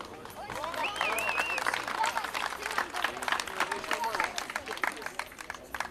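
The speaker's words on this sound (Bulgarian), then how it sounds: "Да ги изпратим с аплодисменти." Crowd applause at a 2012 rally awards ceremony in Tvarditsa, steady clapping throughout with a loud voice talking over it and some crowd noise mixed in.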